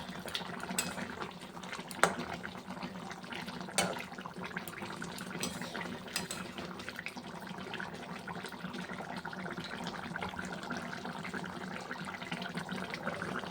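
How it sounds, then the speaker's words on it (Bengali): Fish curry simmering in a pan: a continuous low bubbling and gentle burbling at moderate distance, with a couple of faint clinks early on and no talking. "এই দেখো মাছের ঝোলটা ফুটে এসছে"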